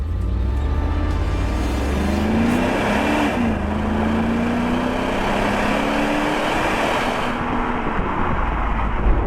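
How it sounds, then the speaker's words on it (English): A 1991 Mercedes 500SL V8 with an unrestricted exhaust growls loudly up close, the revs climbing and wavering through a throaty rise before settling back into a steady drone. "The engine sounds really good. There's a nice growl from that V8"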